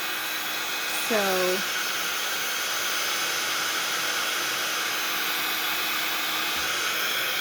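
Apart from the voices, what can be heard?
hair dryer drying a mixed media journal page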